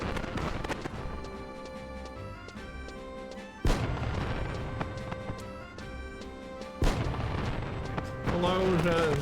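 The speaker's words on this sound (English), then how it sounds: "the firework actually kind of startled me a little bit" Sudden firework explosions in the video game Final Fantasy XI, with two sharp broadband booms bursting out over a steady bed of in-game music and city ambience, plus a loud crackling stretch near the end.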